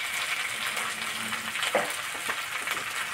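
Potatoes and ground spices sizzling and frying in a pan, a steady hiss with occasional stirring scrapes and clinks, moderately quiet and alone without talk.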